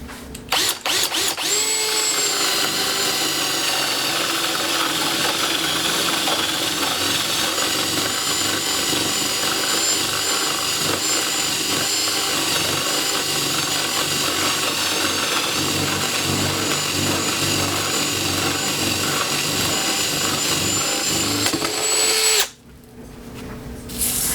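A Bauer 20V cordless drill runs loud and steady for over twenty seconds at a constant whine, then cuts off abruptly near the end with a brief tail of quieter handling noise.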